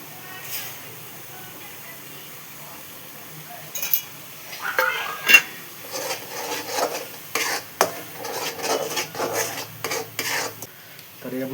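Spice masala being stirred and roasted in oil in a pan for a village-style egg curry, with scraping and rasping spoon strokes arriving in irregular bursts over a soft sizzle, close and moderately loud.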